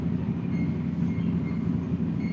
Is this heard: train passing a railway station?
yes